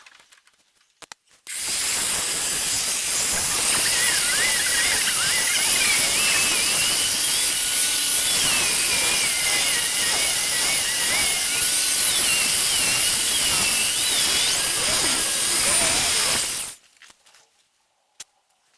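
Polishing machine with a pad working over car bodywork to remove fine scratches: a continuous loud whirring drone runs steadily for about fifteen seconds, starting and stopping abruptly, with no talking.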